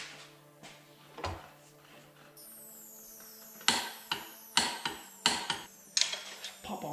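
A flywheel nut on a Predator 224 engine, fitted with a cast aluminum flywheel and held by a crank holding tool, is torqued down with a series of sharp metallic clicks and clacks. They come in an uneven rhythm, close and fairly loud, with no talk.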